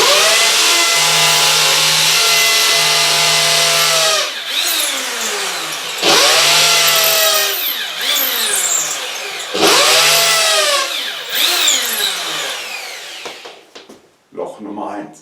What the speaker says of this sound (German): Das heißt, ich bohre jetzt mit einem 5er vor.